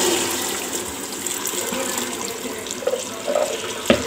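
Water poured into a pan of chickpea curry with boiled chickpeas, a steady close splashing stream that thins to a few drips and gurgles near the end, with no talking.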